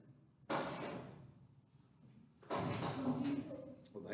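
A door bangs twice, each a sudden loud thud that rings briefly and then fades into a hollow rumble, with a second heavier impact followed by rattling and a person's voice.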